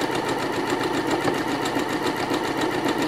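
Domestic sewing machine running steadily at medium speed during free motion embroidery, a continuous close whirring hum with fast rhythmic needle chatter and no talking.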